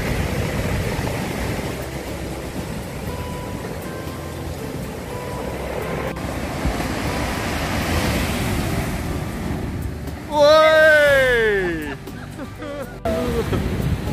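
Sea waves roll and wash onto the beach below the promenade at Cromer, Norfolk, a steady loud surf roar with wind buffeting the microphone and a brief rising whine near the end.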